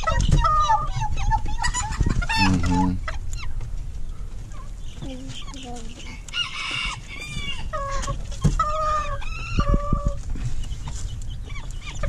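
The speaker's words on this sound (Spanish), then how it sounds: "The chicks, baby chicks are going right that way." Old English bantam chickens and baby chicks fill the yard with steady clucking, sharp peeping calls and bursts of squawks, close and fairly loud, with quieter background clucking throughout.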